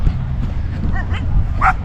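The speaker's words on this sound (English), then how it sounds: "There's some dogs over here." Dogs bark and yip near the water in a colourful Colombian lakeside town, a few short barks and whimpers at moderate distance over outdoor background noise.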